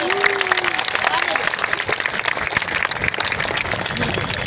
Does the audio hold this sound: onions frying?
no